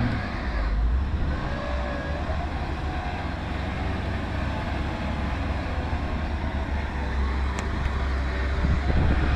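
A Mercedes G Wagon engine given gas while reversing, a steady low rumble that swells slightly as throttle is applied, close and loud throughout with no talk.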